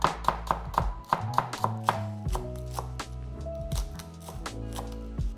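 Spring onions are chopped with a knife on a board, a quick run of crisp, evenly spaced thunks at first, then softer, looser cuts continuing close and clear.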